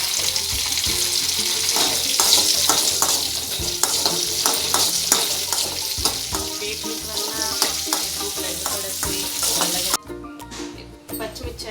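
Green chillies sizzle and fry in a pan, a steady dense crackle with clattering stirring strokes throughout, close and loud, ending in a sharper burst of hissing.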